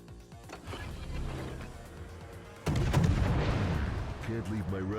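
An Italian Tier IX destroyer, the Paolo Emilio, in World of Warships fires a loud booming gun salvo partway through, over a continuous rumble of engine and sea noise, with game sound effects and a voice in the background.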